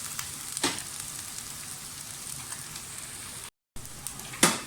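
About a teaspoon of cumin seeds sizzling in hot oil at the start of a keema masala, a steady close frying hiss with scattered crackles and pops.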